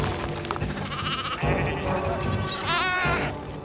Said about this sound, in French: On fait traverser les moutons et les chèvres, mais elles veulent pas marcher sur l'eau glacée.